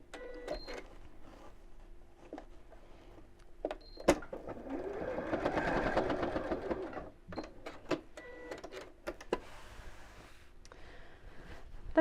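Sewing machine running a holding stitch near the edge of fabric for a large tie tote, a faint whirring burst in the middle flanked by clicks and handling noises.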